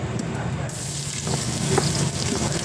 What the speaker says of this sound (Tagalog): Sorb na natin tong bawang